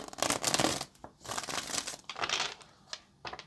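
Tarot cards being shuffled by hand, a run of papery riffling and flapping bursts in quick clusters with short pauses between, close and fairly soft, no talking.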